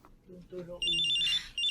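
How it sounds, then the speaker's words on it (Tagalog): A cellphone ringtone chimes from inside a knapsack in repeated bright bursts, following a short stretch of low murmuring voice at the start. "Hindi pa rin humihinto ang pag-ring."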